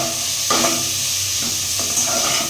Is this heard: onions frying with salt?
yes